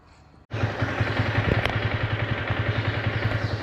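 A Yamaha R15 V3 motorcycle engine, smoking during maintenance, fires up suddenly after a quiet moment, then runs close and loud with a steady, pulsing idle throb.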